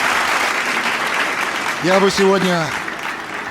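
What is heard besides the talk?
audience applause for a speaker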